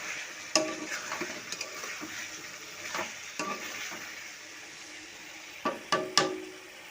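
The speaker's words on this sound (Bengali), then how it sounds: "এই দেখো মশলার সাথে আলুটাকে আমি ভালো করে কষে নিচ্ছি" Potatoes fry with spice masala in a pan for an egg and potato curry, a soft continuous sizzle broken by scraping stirs and several sharp spoon clinks against the pan.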